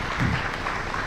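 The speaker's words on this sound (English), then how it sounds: "We can continue clapping." Applause from an audience at a strategic plan launch event, a brief steady wash of clapping at even loudness, no voices.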